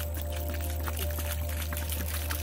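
Water mixed with fertilizer pours from an old bucket onto garden soil in a steady, close stream over a low constant hum.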